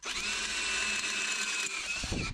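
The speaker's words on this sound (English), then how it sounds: "let me grab a drill bit real quick, and we will embiggen these holes" A hand-held power drill bores out bolt holes in a metal plate for a bag mount. It gives a close, loud, steady whine that holds for about two seconds and then cuts off, with no talking.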